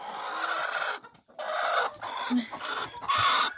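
Hens cluck in short bursts close by in a henhouse as eggs are gathered, the calls broken by brief pauses and some background chatter.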